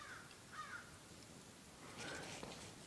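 Crows caw outdoors at a distance, two hoarse calls early and another later, faint over a steady background hiss with no talk.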